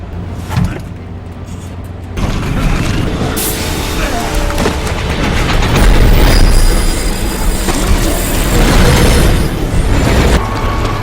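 Train moving on rails in a film scene, a loud close rumble with clattering wheels and high metallic squeals that builds after a quieter start and runs continuously.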